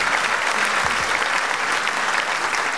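Steady, dense applause from a live show audience, loud and continuous throughout with no pause, filling the whole stretch as a broad wash of clapping.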